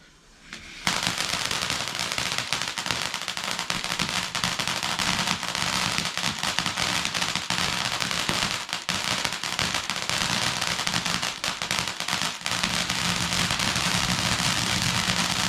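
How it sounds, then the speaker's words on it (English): Bonfire night fireworks and firecrackers burst continuously, a dense crackling barrage of rapid pops and bangs with no pause, loud and sustained throughout. "It's alright with fireworks."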